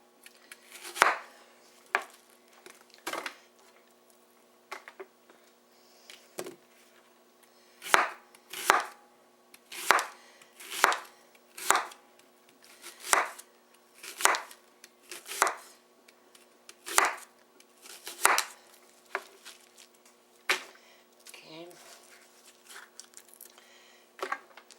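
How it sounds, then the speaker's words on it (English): Knife roughly chopping two Vidalia onions on a board, a steady run of about twenty crisp, close thuds spaced roughly a second apart, with no talking. "I've got 2 Vidalia onions, and I'm just going to give them a rough chop here"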